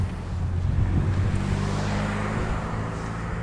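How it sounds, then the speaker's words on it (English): Steady traffic roar on a bridge in Aruba, a continuous broadband rumble with heavy low-end and wind buffeting the microphone, no talk. "a lot of traffic noise today"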